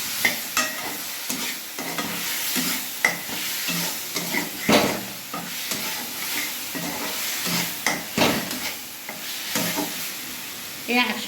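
Potato pieces and whole garlic cloves fry in oil in a pan. A steady sizzle runs throughout, broken by scrapes and knocks of a spoon against the pan, close up, with faint voices now and then.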